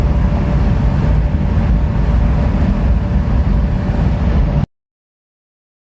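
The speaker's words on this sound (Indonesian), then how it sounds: "Ini dengerin guys, bunyi mesin sebelum disetel." A Mitsubishi L300 engine idles roughly before a tune-up, giving a loud, steady, broadband mechanical rumble close by for several seconds before cutting off abruptly into silence.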